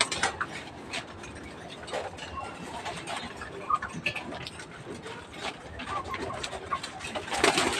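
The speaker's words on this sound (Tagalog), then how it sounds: "Ganyan lang po tayo magpakain sa kalapate natin." Pigeons being hand-fed coo steadily at close range, their soft calls repeating over a busy bed of shuffling, pecking and other bird chatter that swells near the end.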